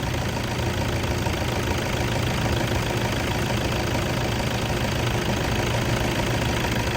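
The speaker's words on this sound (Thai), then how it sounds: "นี่คือ เครื่องดีปกติเลย" A 2010 Toyota Vigo 2.5 E diesel pickup engine idles steadily up close, a constant low rumble with a fine mechanical clatter that holds even throughout with no voices.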